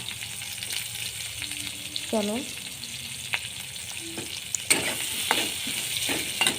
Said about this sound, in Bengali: এই যে পেঁয়াজ ভেজে নেওয়া হচ্ছে